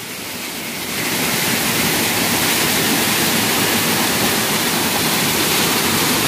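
A waterfall roars with a loud, steady rush of falling water that swells after the first second and then holds as an unbroken wash, with no other sounds cutting through.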